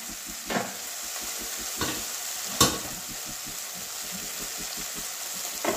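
Boiled jackfruit and potato being stirred into frying masala in a pan for a Bengali jackfruit curry, giving a steady close sizzle with soft scraping stirs and a few louder knocks against the pan.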